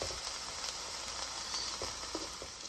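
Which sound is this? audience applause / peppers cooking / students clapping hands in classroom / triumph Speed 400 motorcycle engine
peppers cooking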